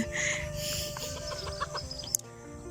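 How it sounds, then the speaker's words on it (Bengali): Several chickens cluck and squabble nearby in a fight, a busy run of overlapping clucks and squawks ending in a sharp flapping burst. "মুরগি মারামারি লাগছে, কতগুলা মুরগি এখানে চলে আসছে"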